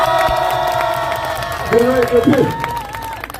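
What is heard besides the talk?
audience applauding and cheering at a rally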